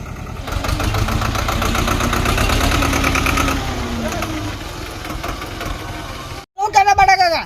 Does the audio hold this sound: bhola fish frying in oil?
no